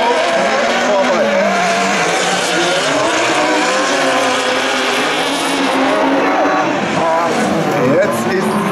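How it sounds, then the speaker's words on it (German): Super Buggy race cars roar around the track in the 2018 final at Seelow, with loud continuous engine drone and whine, shifting pitch and tyre noise. A commentator talks over it throughout. "Florent Tavani fährt allen auf und davon."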